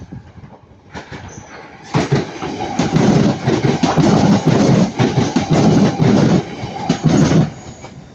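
Class 323 electric unit 323235 passing at Ardwick on a Manchester Piccadilly to Hadfield service. A rumble builds, then a loud close pass of clattering wheels and rolling roar lasts several seconds before easing away.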